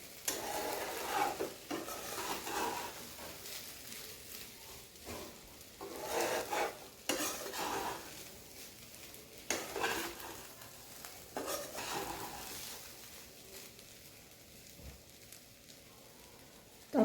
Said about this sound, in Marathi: आपल्याला परत मिक्स करून घ्यायचं आहे.